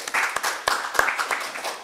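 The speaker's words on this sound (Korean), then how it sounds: "네 분께 다시 한번 박수 부탁드리고요" A small audience at a public debate forum applauds with scattered, uneven claps at moderate volume, no voices over it.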